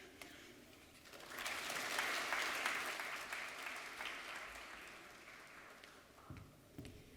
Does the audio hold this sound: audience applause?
yes